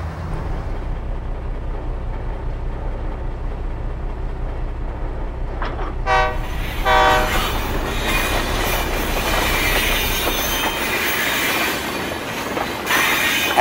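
A big train hauling an extra-heavy coal load up a hill to the mines, its steady rumble rolling throughout, with wheel squeal and clattering rail noise rising midway and continuing alone without talk.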